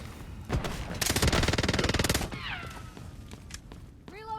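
Gunfire from the shooter video game Hot Zone: a loud, sustained burst of rapid automatic shots, followed by scattered single shots, whooshing effects and a rising tonal chirp near the end.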